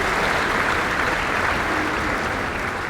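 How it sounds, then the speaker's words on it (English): Dinner guests at a law firm's client appreciation event clap loudly and steadily, a close, thick burst of applause that holds without a break. "One more round of applause for Mikal Watts, everybody."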